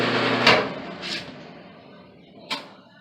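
A Whirlpool/Kenmore dryer door swinging open: a sharp latch click, a softer second clack a moment later, then a final crisp snap, all close and alone over a low hum.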